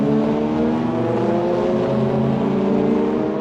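Race cars from the Supercar Challenge at Spa Francorchamps, a CN prototype among them, roar at speed in a loud, dense engine drone with slowly shifting pitch and no talk.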